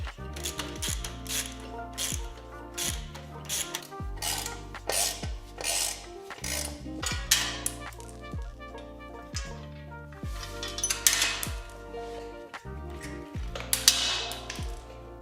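A ratchet wrench clicks in repeated bursts close by as brackets and a side cover come off an Indian Chief motorcycle, with metallic clinks and brief pauses between runs.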